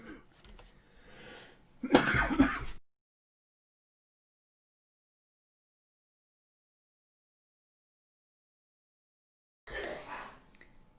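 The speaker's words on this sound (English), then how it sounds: "had a little bit of cough there" A few sharp coughs burst out near the start, followed by a long silence and then another brief cough-like sound.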